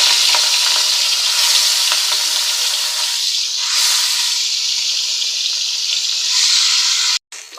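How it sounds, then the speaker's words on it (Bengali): Fish coated in salt and turmeric frying on a hot tawa, a steady loud broadband sizzle with occasional stirring, continuous throughout and cutting off briefly near the end. "মাছগুলি ভেজে নিচ্ছি"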